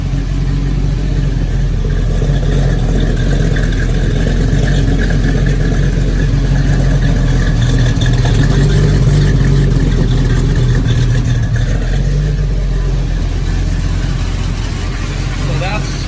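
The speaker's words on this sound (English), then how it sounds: "the exhaust cutouts is the cool thing. Listen to the back." A supercharged 1940 Ford hot rod engine with open exhaust cutouts rumbles loudly and steadily, a deep throbbing idle up close, with voices talking over it.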